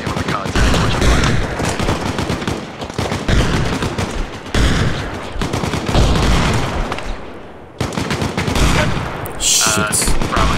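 Automatic rifle fire rattles nearly nonstop in Arma Reforger during a combat patrol in a Vietnam jungle, loud dense bursts with short gaps between them and shouted radio voices mixed in.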